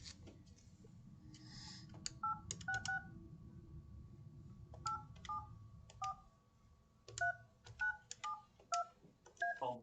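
A phone keypad dials an interpreter line during a court session: short groups of clear, moderately loud DTMF tones, several presses in quick runs separated by pauses, over faint room hum.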